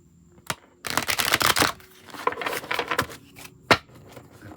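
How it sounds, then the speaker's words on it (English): Oracle cards are shuffled by hand in a quiet room, giving bursts of crisp riffling and flicking with short pauses and a couple of sharp taps between them. "Shuffle one more time."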